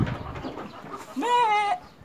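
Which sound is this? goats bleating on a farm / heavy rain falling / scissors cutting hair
goats bleating on a farm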